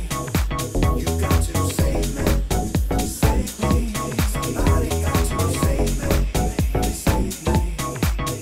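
Dense dub mix with a steady groove of bass and drums and a vocal treated with a delay effect, echoing repeats layered through a loud, continuous track.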